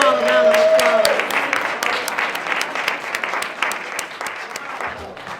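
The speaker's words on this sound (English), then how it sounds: "Let's give them all a round of applause." Audience applause for children at a Martin Luther King Day celebration in a town hall, steady dense clapping that fades out over a few seconds, with a brief voice at the start.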